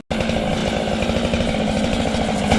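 A chainsaw trims bark and sapwood from an oak log so it fits a milling setup, running loud and close at a steady high-revving roar throughout, with a slight surge near the end.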